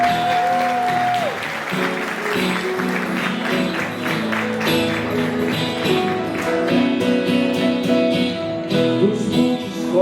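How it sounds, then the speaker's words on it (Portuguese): An audience at a Carnaval 2025 night show applauds Marci, clapping running steadily under music with sustained tones, moderately loud and continuous throughout. "eu quero receber aqui uma salva de palmas"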